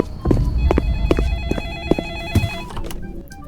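A telephone rings in a short indoor scene from a Korean horror-comedy, with repeated bell-like bursts over about three seconds, clear and fairly close, and footsteps and light movement around it.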